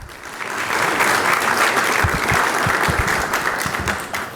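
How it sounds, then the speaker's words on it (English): Audience applause at a business and investment forum conference session in New York, dense steady clapping from a full room throughout, loud and sustained with no voices over it. "Let's give him another round of applause,"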